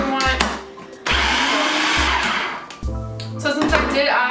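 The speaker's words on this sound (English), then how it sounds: "So I'm gonna add one right now and then blend it" A kitchen blender whirs loudly in several separate pulses while roasted red pepper hummus with a garlic clove is blended, close up, with short gaps between the bursts.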